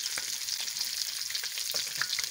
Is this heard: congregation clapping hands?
no